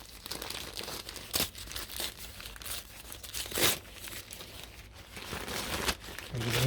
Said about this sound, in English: A lot of unwrapping to do in this video.